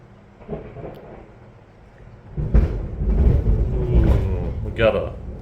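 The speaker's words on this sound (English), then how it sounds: "We got a thunderstorm going on here right now." Thunder from a passing thunderstorm rolls in as a low, swelling rumble that builds and lingers, heard indoors at moderate loudness.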